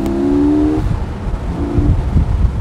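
A 2020 Porsche Boxster GTS 4.0 with an automatic gearbox accelerating, its loud engine tone rising and then breaking off at a gear change before it resumes, heard up close.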